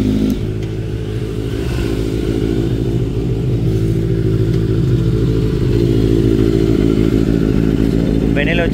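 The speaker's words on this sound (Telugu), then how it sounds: "ఫస్ట్ అయితే బెనెలీ సౌండ్ విందాం" A Benelli 600i motorcycle engine idles close by with a steady, deep, even burble that holds a constant pitch throughout.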